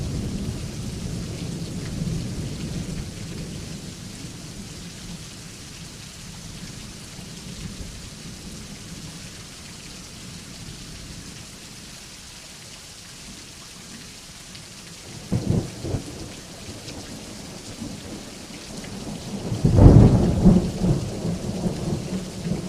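A thunderstorm with steady rain hisses throughout, broken near the end by two heavy rumbling thunder crashes from lightning strikes, the second louder and closer.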